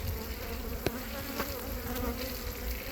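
A steady, dense buzzing of many honey bees at an open hive fills the air continuously, with a few brief louder passes of individual bees close by.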